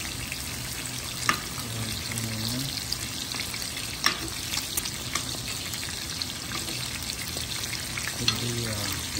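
A steak fries in grass-fed butter with garlic and rosemary, giving a continuous close sizzle with sputtering crackles and a few sharp pops, all without speech.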